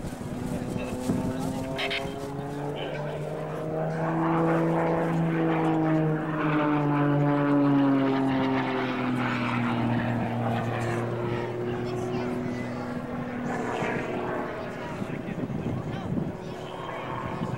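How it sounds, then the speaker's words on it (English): A propeller aerobatic airplane flies a tail slide at a county airshow. Its engine drones steadily and loudly, and the pitch slides down and back up as the plane falls back. An announcer talks over it throughout. "he goes into another tail slide. Airplane falls back."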